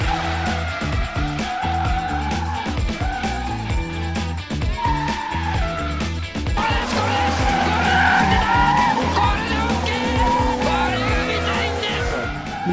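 A car drifting at a drift school, with the driver using the handbrake through transitions. The engine revs loudly and continuously under sustained skidding and tire squeal, heard nearby.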